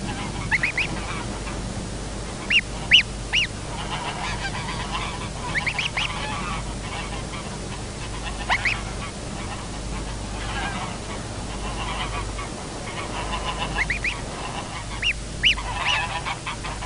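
Pink-footed geese honking in the Þjórsárver wetlands of Iceland, scattered calls near and far over a constant outdoor background hiss.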